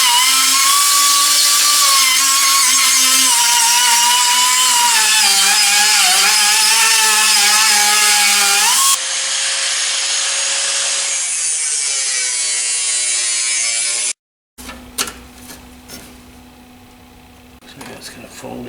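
Metal being cut with a power tool for a custom off-road bumper, a loud steady whining grind that shifts pitch as it bites, then a different cutting tone, a brief pause and scattered clanks.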